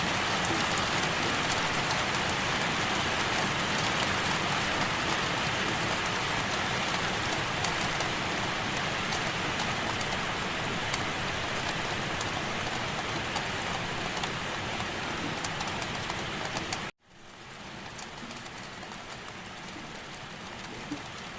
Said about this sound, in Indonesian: tapi kalau hujan sederes ini, gue lari sampai depan halte pun bakal basah kuyup.